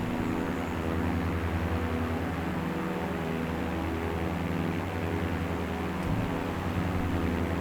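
Steady droning propeller engine of a Sikorsky S-16 plane at max throttle in a flight simulator, constant and moderately loud with no talk.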